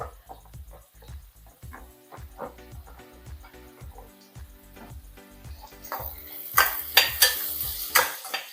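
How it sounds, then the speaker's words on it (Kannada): Chopped capsicum fries in a pan over a medium flame, with a steady rhythm of stirring strokes scraping the pan and a sizzle that grows louder and crackles more toward the end. "ಮೀಡಿಯಂ ಫ್ಲೇಮಲ್ಲಿ ಇಟ್ಕೊಂಡು ಫ್ರೈ ಮಾಡಬೇಕು ಈಗ ಕ್ಯಾಪ್ಸಿಕಮ್ ಒಂದು ತಗೊಂಡಿದ್ದೀನಿ"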